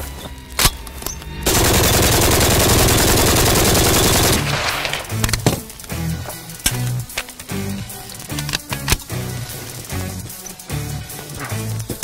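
An RPK machine gun fires one long, loud, continuous burst lasting several seconds, followed by scattered clanks and handling noises up close.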